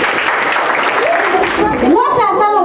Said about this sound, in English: Thank you. Clap for her.